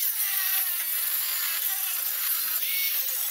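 A saw cutting through the exhaust pipe of a SEAT Ibiza Bocanegra 1.4 TSI, a continuous harsh high grinding rasp that holds steady and close for the whole span, with no talking.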